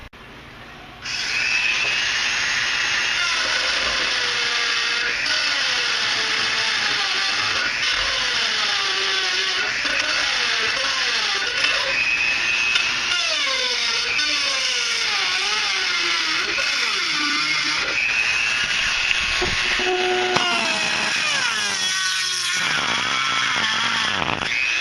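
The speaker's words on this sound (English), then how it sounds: "So we'll get this in the vise and do some trimming, and there'll be little aluminum shavings flying everywhere." A power tool trims an aluminum part clamped in a vise, giving a steady high-pitched whine that holds for about twenty seconds with small wavering changes in pitch as it cuts, then stops.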